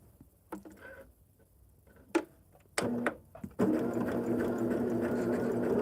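A sewing machine runs steadily while stitching a hexie quilt seam, loud and continuous in the last two seconds after a few short starts and clicks.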